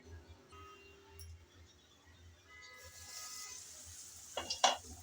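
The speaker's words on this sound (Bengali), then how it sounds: "আমি নেড়ে চেড়ে ভালো করে কষিয়ে নিলাম" Tomato masala for a small-fish (chara pona) curry being stirred and sautéed in a pan: a faint, low sizzle with soft scraping, rising toward the end into a few sharper clinks of utensil on metal.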